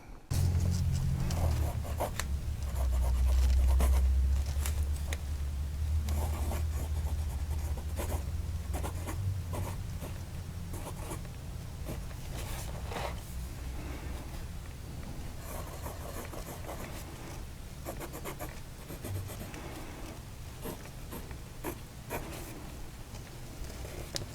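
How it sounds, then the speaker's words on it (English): A Wing Sung 3013 vac-fill fountain pen nib moves across paper in close, continuous scratchy strokes, with soft rubbing texture and brief pauses between words, over low background rumble. "So let's see how this nib writes."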